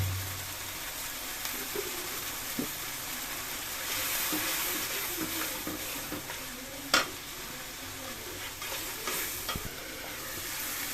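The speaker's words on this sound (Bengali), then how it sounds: "দেখুন মশলা কষানো হয়ে গেছে" Ground spice paste with turmeric stirred and frying in a pan for chicken bhuna, a soft continuous sizzle with scraping stirs and an occasional sharper knock of the spoon, no voices.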